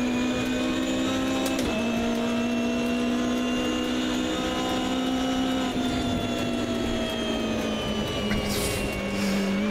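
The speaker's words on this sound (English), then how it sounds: "there's like all kinds of rattles and knocks coming from my car right now" A race car in the Automobilista 2 racing video game runs at a steady, loud engine drone throughout. Faint rattling and knocking sits under the continuous tone, and there is no talk.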